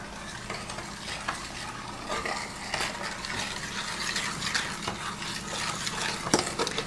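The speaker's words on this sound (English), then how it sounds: "Add that in and then mix it together." Beaten eggs are stirred into a pineapple fruit salad mixture in a bowl, giving a continuous wet, squelching stir with small scraping clicks, close and moderately quiet, with no talking.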